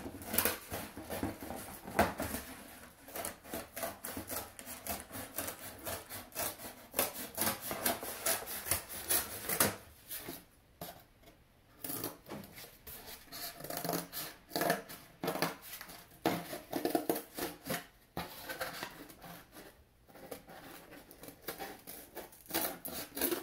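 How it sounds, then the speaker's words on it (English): Paper or card book cover for a handmade accordion artist book being cut with scissors or a box cutter, giving steady close scraping and rubbing strokes with short pauses, no talking. "you can cut those out with scissors or a box cutter"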